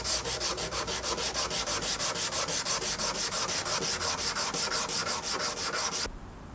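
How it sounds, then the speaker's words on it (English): Steel knife blade hand-sanded with 240-grit paper, a brisk, even rhythm of rasping strokes, about five per second, close and loud, stopping abruptly near the end. "We're going to take it through a bit further with hand sanding, probably to 400"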